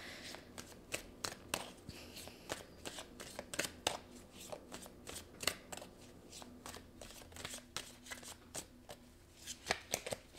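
Tarot or oracle cards being shuffled in a quiet room, a faint run of soft, rapid riffling flicks and slaps that keeps going without any talk.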